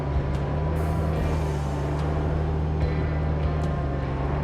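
Steady low engine drone of a cargo truck driving in RoadCraft, a constant deep rumble holding an even level throughout with faint clicks on top and no talking.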